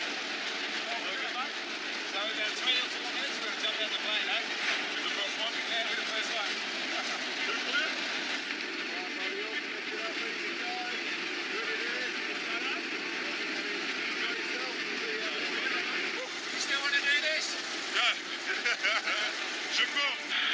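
Inside a skydiving plane in Australia before a first jump, the aircraft engine gives a steady, loud cabin roar that runs throughout, with people talking over it.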